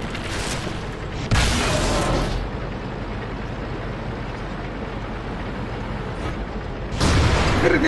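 A critical hit fired from a T30 heavy tank in World of Tanks, heard as deep booming impact blasts, one near the start and another near the end, over a steady low game rumble.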